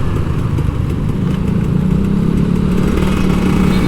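An old Kawasaki Ninja RR 150 two-stroke motorcycle engine runs steadily and loudly nearby, with a continuous buzzing drone and no revving.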